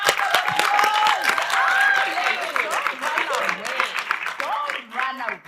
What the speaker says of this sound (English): Let's give Marcia a round of applause.